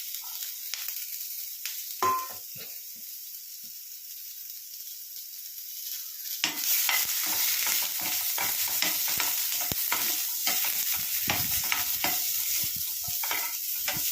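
Garlic and onion sautéing in a pan for Andhra-style brinjal masala: quiet at first with a clink, then a louder sizzle swells and continues with steady stirring scrapes and crackle.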